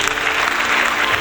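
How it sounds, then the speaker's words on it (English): Studio audience breaking into a round of applause on a casual news and talk show, brief, steady and loud clapping with no other sound over it. "Round of applause for Ezra Miller."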